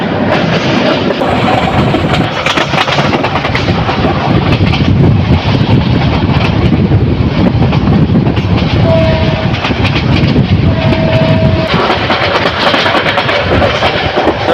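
Loud, continuous rumble of the moving Kalni Express heard from inside a carriage on the Bhairab–Dhaka route, with rattling wheels and a steady clickety-clack throughout.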